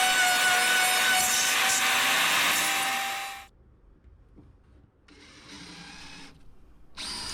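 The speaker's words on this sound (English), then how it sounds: "This front piece needed to be routed down a little bit to be able to fit underneath the battery box." A router cutting down a marine-grade plywood floor piece for a 1986 Ski Nautique boat, a loud close high whine that cuts off abruptly, then shorter bursts after a pause.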